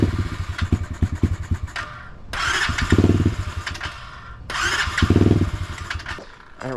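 An SSR 125 automatic dirt bike being started: after a rough, uneven cranking, the engine twice catches in loud bursts of a second or so and dies away, close up, with no talking.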